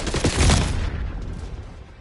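A concussion grenade launches in Black Ops 6, a loud sudden burst with a sharp crackling onset that swells for about half a second, then fades into a decaying rumble.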